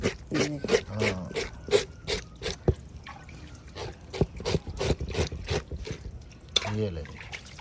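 A pot being scrubbed clean under hot water in a village kitchen on a winter evening, with repeated splashing and dripping in short bursts, close by, while someone talks over it.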